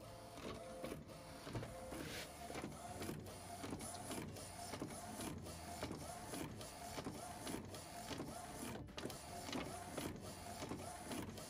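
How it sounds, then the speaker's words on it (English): A McLaud MP1700 DTF desktop production printer runs steadily while printing from a roll, its print head carriage shuttling back and forth in a regular mechanical rhythm, close and continuous with no talking. "This is a really good printer."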